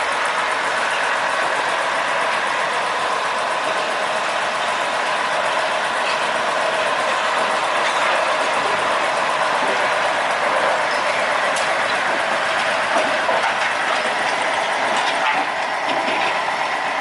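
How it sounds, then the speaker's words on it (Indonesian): A sugar cane train locomotive from PG Kedawung rolls along rails at night beside houses, giving a loud, continuous rumble and clatter that holds steady for the whole stretch. "Oke, lokomotif"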